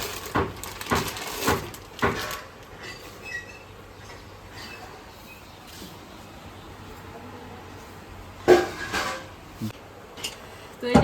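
A large 3-litre steel pressure cooker lid is handled and set in place, with scattered metallic clanks and knocks, a cluster at the start and another later, amid quiet room noise.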